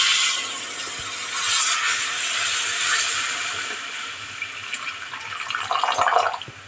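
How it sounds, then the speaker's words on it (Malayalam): Boiled kudampuli (Malabar tamarind) water is poured into a pot of fish curry as a continuous splashing rush that swells and turns choppier toward the end. No voices are heard. "നേരത്തെ തിളപ്പിച്ച് വെച്ചിരുന്ന കുടംപുളിയുടെ വെള്ളമാണ് ഇപ്പോൾ ഒഴിച്ചത്."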